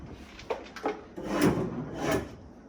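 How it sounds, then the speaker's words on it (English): Wooden cherry drawer fronts on kitchen cabinets are handled and reinstalled, with a few short knocks followed by longer rubbing, sliding wood sounds, close and fairly loud, no talking. "reinstall some of the fronts of these drawers that had a couple of dings in them"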